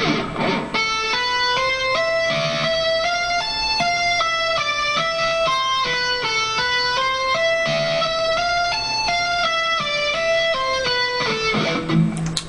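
Fast tapped guitar notes cascade in a continuous rolling pattern, with several notes ringing over one another instead of sounding cleanly apart.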